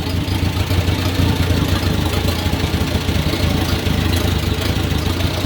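An old 1950s Farmall Model A tractor engine runs steadily nearby, a loud, continuous low chugging idle with a rough, even pulse throughout.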